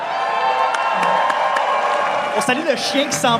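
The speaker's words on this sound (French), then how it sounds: "Ils sont là, on peut les applaudir." A live comedy show audience at the St-Denis theatre claps and cheers, a broad wash of crowd noise with whoops, while someone speaks over it near the end.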